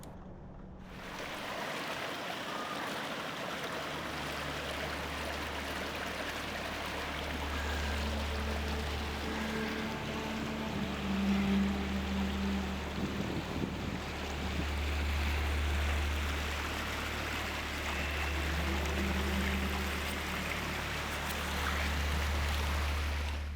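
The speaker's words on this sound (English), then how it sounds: "This waterfall was indeed beautiful." A waterfall in the Ozarks pours clear water with a steady, even rush that holds constant throughout, moderately distant and with no voices.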